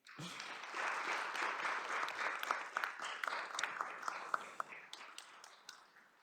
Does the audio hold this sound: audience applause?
yes